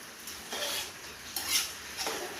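A metal lid lifts off a pot of biryani with soft scraping clinks and a steamy hiss, a few light metallic touches close by.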